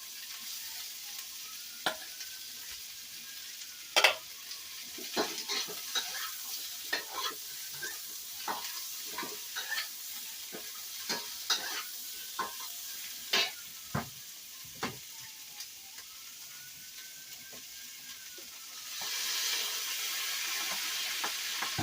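Shrimp and chicken stir-frying with asparagus, ginger and garlic in a Chinese restaurant-style dish: a quiet continuous sizzle with scattered sharp clanks and scrapes of tossing, swelling into a louder hiss near the end.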